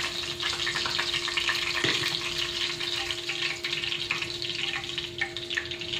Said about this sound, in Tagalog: Gigisa na natin dito guys.